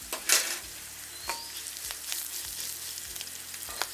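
Fennel powder and spices sizzling in hot oil in a pan for a vegetarian meal, a steady quiet frying hiss with a few soft stirring scrapes, heard alone.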